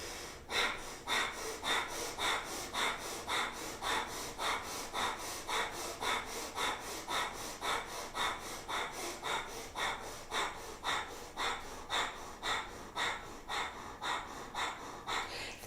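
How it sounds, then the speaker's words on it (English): Breath of fire, a rapid kundalini yoga breathing exercise: forceful rhythmic exhales snort through the nose about three times a second, close and steady for the whole stretch with no talking. "Closing the mouth halfway through and trying breath of fire again."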